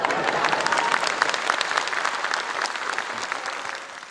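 Steady audience applause fills a comedy show by Romica Tociu and Cornel Palade, dense and continuous for the full length at moderate loudness, with faint crowd murmur underneath.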